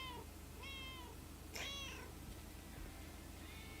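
A cat meows several times in the video game Lake, with short rising and falling cries and one louder call in the middle, over a steady low background hum.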